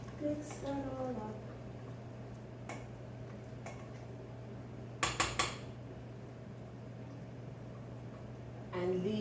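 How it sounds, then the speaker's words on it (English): A spoon clinks against a pot of Jamaican oxtail, with scattered metallic taps and a quick cluster of sharp clanks midway over a steady low hum, while a voice talks briefly at the start. "And then I'm going to go stir that pot."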